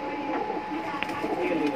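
Pigeons for sale, including red-eyed and golden ones, coo softly at a seller in Bandra West amid a busy, noisy background, with murmuring voices and other bird sounds mixed in.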